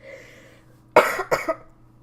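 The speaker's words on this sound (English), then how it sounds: "I'm sorry for all the coughs" Two quick dry-throat coughs close to the mic, the second slightly softer, with a faint hum in the background.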